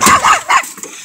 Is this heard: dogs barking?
yes